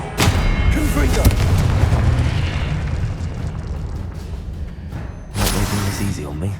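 Loud, heavy blasts from the Confringo fire spell in the video game Hogwarts Legacy: a long rumbling explosion fills the first five seconds, then a second sharp boom erupts near the end, with booming low-end roar throughout.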